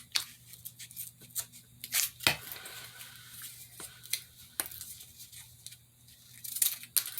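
Scissors snip through the sides of a small handmade paper notebook, a run of short, crisp cuts close by with quiet gaps between them, one sharper crunch partway through, and no voices.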